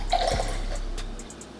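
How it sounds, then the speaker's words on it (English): Liquid pouring briefly into a cocktail shaker: a short, close trickle of bourbon, two ounces added to a mix of water and a packet for an old fashioned, followed by a few faint drips in a quiet room. "I'm gonna go ahead and pour 2 ounces"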